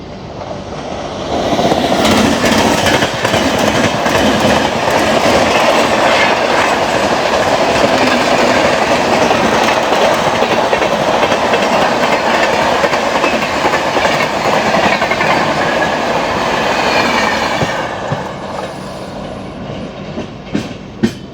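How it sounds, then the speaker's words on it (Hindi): The Grand Trunk Express, running from MGR Chennai Central to New Delhi, thunders past at close range for about fifteen seconds with loud continuous wheel clatter and rumble, then fades abruptly, leaving faint ambience. "सामने से आ रही है grand trunk express MGR Chennai central से न्यू दिल्ली जाने वाली"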